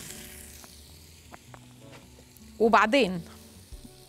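Floured, salted and peppered meat searing in a spoonful of olive oil, a soft steady sizzle under a brief spoken word, with a louder burst of stirring noise partway through.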